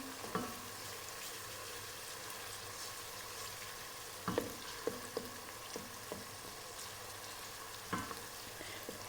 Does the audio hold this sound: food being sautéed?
yes